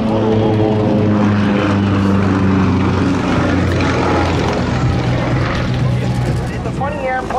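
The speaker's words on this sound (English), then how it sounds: "Just lets the airplane slip back down through his own smoke." A propeller airplane at an airshow slips backward through its own smoke in an aerobatic tail slide, its engine a loud droning buzz with shifting pitch, heard beneath an announcer speaking over a public address.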